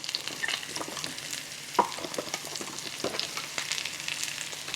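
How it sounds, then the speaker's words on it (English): Sliced cremini mushrooms sauté in a pan with a steady, soft sizzle, broken by light scraping stirs and one sharper tap near the middle; no one speaks. "I have a container of sliced cremini mushrooms. I'm gonna saute those"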